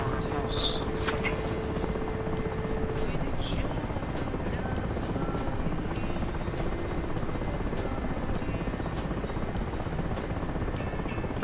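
A helicopter in the flight game DCS makes a constant rotor and engine drone with a faint high whine, steady and loud throughout.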